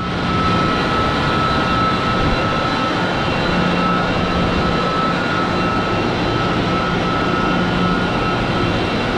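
Water rushes and churns inside the surge pit of a water park family raft ride, fed by a large inflow line. The roar is loud, dense and continuous, heard close up with no voices over it.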